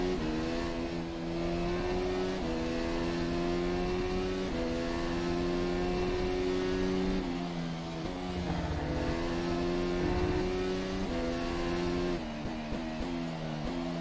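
A continuous high-revving Formula race car engine in the rFactor 2 racing sim at Hockenheim drones loudly throughout, pitch stepping up and dropping back with gear changes, no talking.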